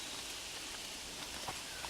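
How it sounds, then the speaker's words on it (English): Steady outdoor rainfall falling on the earth, an even hiss of many drops with a few slightly closer patters, continuous and fairly soft. "lovely rain is falling on the earth"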